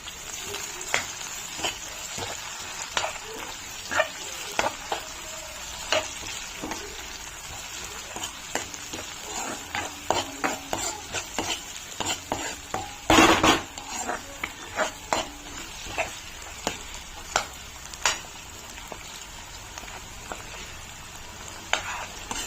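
Finely chopped tomato sautéed in a pan for dal khichdi, a steady sizzle broken by repeated spatula scrapes and clinks against the pan, with one louder clatter midway, no voices.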